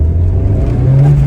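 A 30-year-old Vauxhall Nova's engine revs hard and steadily during a one-wheel wheelspin, a loud, continuous close-up drone that climbs in pitch toward the end.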